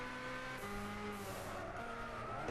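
An Opel Corsa in the Gran Turismo 6 racing game drives with a loud, continuous engine whine whose pitch rises through gear changes, with tire squeal over the top.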